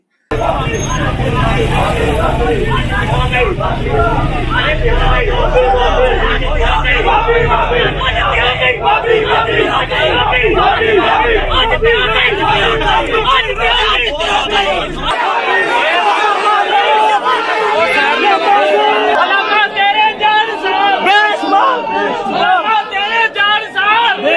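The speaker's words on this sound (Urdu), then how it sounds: "لیکن اس ایکٹیویٹی کے بعد وہاں پہ جو علماء ہیں تو وہاں پہ باقاعدہ نعرے لگے ہیں وہی والے" A large crowd at a gathering of religious scholars in Pakistan chants slogans in a dense, continuous roar of many voices. The chanting is loud and near, holds steady for the whole stretch, and its low rumble drops away partway through.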